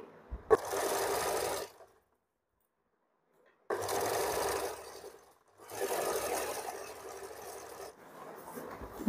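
A sewing machine runs in three long stitching bursts while sewing a frock, each a steady whirring rattle separated by brief pauses of silence.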